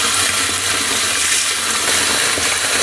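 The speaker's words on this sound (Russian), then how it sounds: "Вода обыкновенная из-под крана." Ordinary tap water runs steadily into a pot holding orchid roots during repotting, a loud, continuous broadband gush that lasts the whole stretch without talk.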